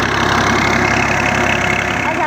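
A tractor engine runs steadily at a Punjab brick kiln, a loud, close, continuous idling rumble with a knocking texture and no break across the stretch.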